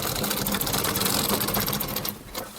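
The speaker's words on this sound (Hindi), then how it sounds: "इसके बाद हम आपको सिलाई मशीन से ओवरलॉक करना बताएंगे" A sewing machine overlocks the edge of a folded cloth hem, running as a fast, loud, continuous mechanical whir close by, easing off slightly near the end.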